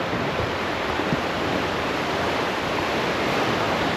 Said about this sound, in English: So right now we're approaching the next rapids. They look pretty fast.